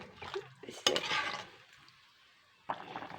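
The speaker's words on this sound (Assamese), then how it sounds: "ধুনীয়াকৈ উতলি আছে" Paneer mutter curry bubbling in a covered pot, heard as soft intermittent simmering and stirring bursts with quiet gaps between them, close and fairly faint.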